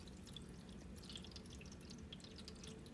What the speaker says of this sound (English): Now I'm going to pour water